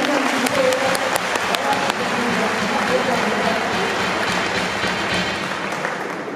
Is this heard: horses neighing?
no